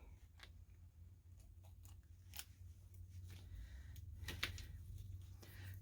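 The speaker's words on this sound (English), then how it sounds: "I'll get some scissors. I'll cut this extra little piece of tape off." Scissors snip through shipping tape in several short crisp cuts spread over a few seconds, close but quiet against a low steady background hum.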